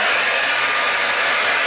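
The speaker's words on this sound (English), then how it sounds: "taking my blow dryer, I'm gonna dry everything. Same thing on a cool setting." A blow dryer on a cool setting drying a freshly blue-dyed wig, a steady, loud, close whooshing hum that holds constant throughout with no voices.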